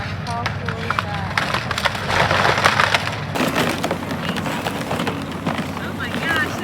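Wood cracking and splintering with sharp snapping bursts as a tree is pulled out and its root comes up, over a steady outdoor rumble and wind, while people talk and exclaim throughout.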